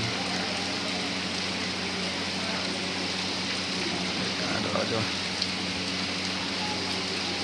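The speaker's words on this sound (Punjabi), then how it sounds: "ਮੀਂਹ ਨੇ ਦੇਖੋ ਕੀ ਮਾਹੌਲ ਬਣਾਇਆ ਹੋਇਆ" Steady rain falls in an even, unbroken hiss, with a few faint scattered knocks underneath.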